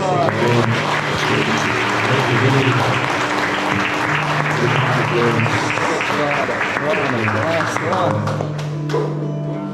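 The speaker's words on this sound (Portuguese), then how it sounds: "É uma salva de palmas." Congregation at a church service applauding together, a dense steady wash of clapping with crowd noise and musical tones running beneath, staying loud throughout.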